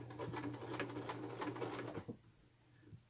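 Sewing machine stitching cording onto a pillow cover: a steady, close mechanical hum with rapid rhythmic needle ticks for about two seconds, then stopping, leaving faint room noise and a small click.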